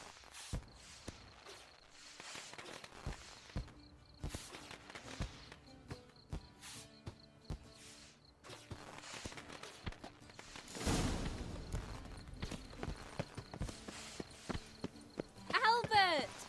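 Horses plod along at a walk in The Witcher 3 video game, their soft, steady hoofbeats clopping in a loose rhythm at moderate distance beneath game ambience and voices, growing louder toward the end.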